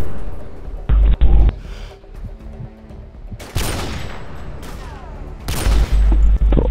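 Gunfire bursts in the video game Modern Warfare 2, several loud rapid volleys separated by quieter gaps, with a few sharp individual shots.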